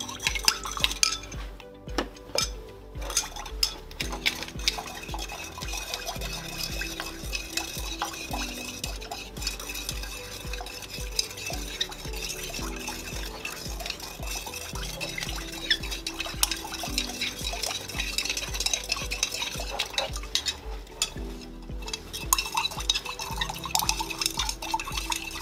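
Citric acid powder being stirred into water, with a steady run of scraping, clinking utensil-on-container sounds and liquid swishing, close and continuous throughout, with no voices.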